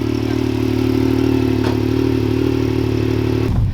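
A brand new Yamaha YXZ 1000R warming up in snow, idling with a steady, smooth hum up close, a brief blip midway, then the note drops away as the engine shuts off.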